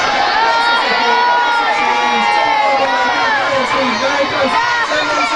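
A crowd of children cheering and shouting loudly at an outdoor event, a dense sustained wall of high voices that stays loud throughout.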